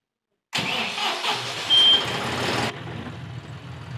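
A John Deere 5075E CRDI tractor engine cranks and catches abruptly, roaring loud and close for about two seconds with a brief beep. It then drops to a steady lower idle rumble.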